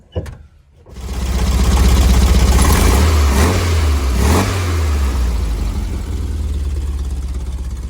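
VW Bus engine fitted with Pertronix ignition, recorded close up, starts up, revs unevenly with surging, bucking pulses for several seconds, then fades toward stalling.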